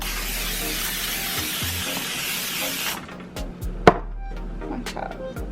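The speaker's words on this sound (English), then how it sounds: "I really don't know why I put that spray all over the pan for this little bit" Cooking spray hisses onto a pan in a steady broadband burst for about three seconds, then cuts off, leaving quiet kitchen clatter and a sharp clink.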